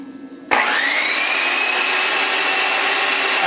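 A Black & Decker variable-speed car buffer kicks on abruptly after a brief quiet moment, then holds a loud, steady motor whine with a slight rising pitch as it runs on alone.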